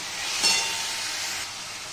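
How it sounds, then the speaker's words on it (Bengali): Chopped tomato and green chilli frying in oil in a pan, a steady close sizzling hiss that runs throughout with no talk over it. "দিয়ে দেবো টমেটো কুচি। এটাকে একটু ভালো করে ভেজে নেব।"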